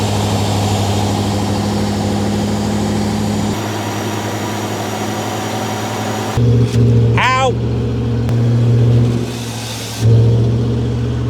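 A Rover P6 V8 engine from a garage find runs at a steady idle with a low rumble, then briefly revs, while people talk close by and one cries out.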